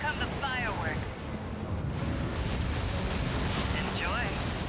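Missile launch explosions in the video game Armored Core VI, a loud continuous roaring rumble of blasts with bursts, sustained over several seconds beneath intermittent voices.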